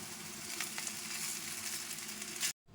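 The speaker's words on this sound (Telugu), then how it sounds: "సో ఇప్పుడు ఇదంతా బాగా మిక్స్ చేసుకోవాలి" Rice being stirred through curry leaves in a pan just after the stove is switched off, a steady close-up sizzle with soft stirring scrapes that cuts off abruptly near the end.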